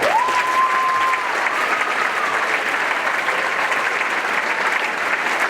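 Sustained crowd applause at a senior awards ceremony, loud and steady throughout, with a faint whistle-like tone rising early on.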